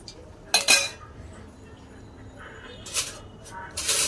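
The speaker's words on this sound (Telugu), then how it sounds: "ఒక ప్యాన్ తీసుకొని స్టవ్ ఆన్ చేసుకున్నాను దాంట్లో కొంచెం ఆయిల్ వేసినాను" A metal pan is set on a stove and oil is added for an ivy gourd masala curry. Three sharp metallic clatters ring out over a steady low background hum.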